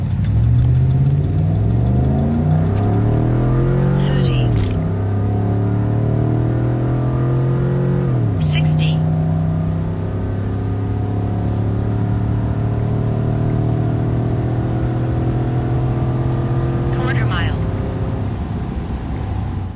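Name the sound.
Silverado pickup with 6.0 liter engine on quarter mile run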